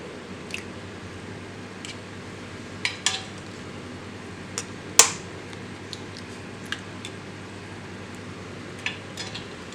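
Sharp clicks and taps ring out one after another in a quiet kitchen, country eggshells cracking against a hard mixer jar rim, with a louder crack midway.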